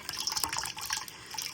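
Wet silk is lifted from a bowl of hot dye water, giving a short, faint sequence of splashes and dripping trickles close by.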